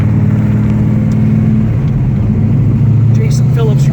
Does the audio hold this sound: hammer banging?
no